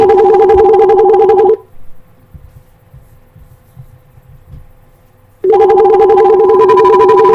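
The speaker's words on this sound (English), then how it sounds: "We have a phone call." An electronic phone ringtone warbles loudly in a repeating pattern, stops for a few seconds of near silence, then rings again.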